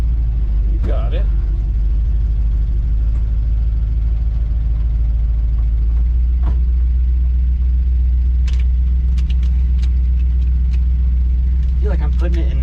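Burnt rat rod engine running with a deep steady rumble and low idle drone while the driver works clutch and gas, close and loud under scattered talk and a few clanks.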